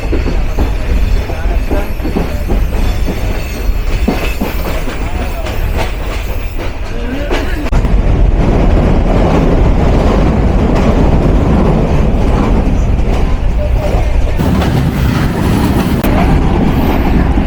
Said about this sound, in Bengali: ঢাকা চট্টগ্রাম মেল ট্রেন প্রবেশ করছে টঙ্গি রেলওয়ে জাংশন ধরে